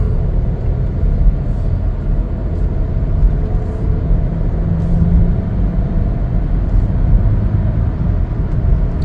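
A 2023 Chevrolet Equinox AWD RS on the road, heard from inside as a steady low rumble of engine and tire noise, continuous and fairly loud with no voices.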